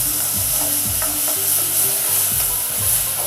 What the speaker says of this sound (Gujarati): મેથીને એકદમ સારી રીતે સોતરી લેવાની, જેથી એની કડવાશ બધી નીકળી જાય